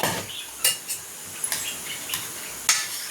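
Tamarind rice mixed with gravy in a pan for temple-style puliyogare, heard as a few sparse, light scrapes and clinks of a spoon against the pan over a quiet kitchen background, with no talking.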